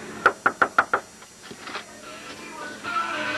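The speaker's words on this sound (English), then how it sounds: "And we'll knock on the door and see if anybody's home." Five quick, evenly spaced knocks on a house's front door, close and crisp, followed by faint room noise and a soft voice.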